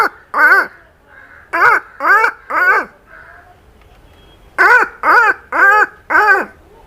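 A man known for mimicking bird calls imitates crows, giving loud harsh caws in rhythmic bursts, a cluster of three, then a pause, then four more, close and clear with near silence between.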